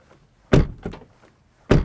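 An electric family SUV's door shut three times in quick succession, each close and loud with a short, slightly tinny thunk and brief decay.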